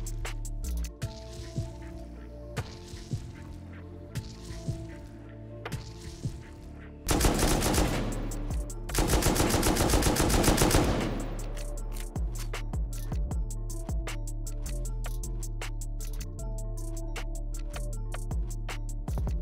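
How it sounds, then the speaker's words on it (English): Automatic gunfire in the video game Rust from an unseen shooter, with sustained loud bursts around the middle of the clip and scattered shots and clatter before and after. "Where's he even shooting from?"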